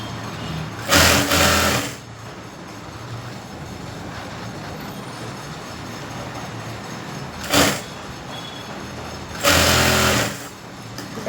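A sewing machine stitches a blouse seam in short bursts: a long run of whirring at first, then a brief burst and another longer run, with quiet pauses between.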